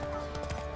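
Horse hooves clip-clop at a steady walking pace in The Witcher 3, the game's horse Roach moving close and clear over a faint bed of game ambience.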